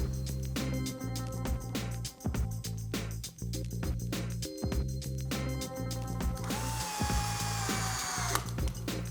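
A power drill drives screws into a Pro-Line Brawler 2.6-inch Clod Buster wheel, with repeated whirring bursts, clicks and clatter between runs, ending in a long, higher-pitched whine, close up.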